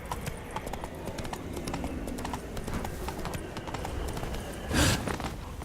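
Hoofbeats of a horse galloping in The Witcher 3 game, a steady clip-clop close by over a busy background, with a brief louder burst near the end.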